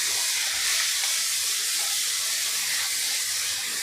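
Thinly sliced medium onions frying in a pan over a medium flame for dhaba-style paneer bhurji, giving a steady, even sizzling hiss throughout with no voices.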